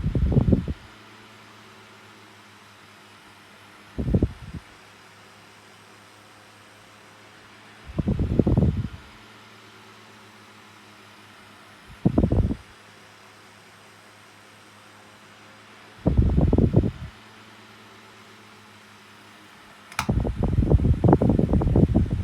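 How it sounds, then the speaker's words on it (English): A small Pifco 7-inch oscillating fan runs with a steady, soft hum, while several brief louder bursts break in at intervals of a few seconds. "Had this Pifco 7-inch jelly on overnight before as well. It's pretty good for overnight use, especially as it's a little oscillating fan."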